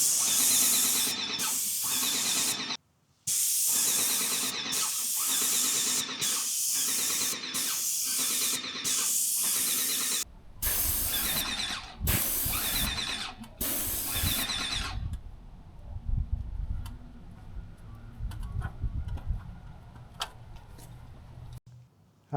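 A paint sprayer applies a finish coat to a metal awning in repeated loud hissing bursts of a few seconds each, separated by short pauses, then stops, leaving quieter low background noise.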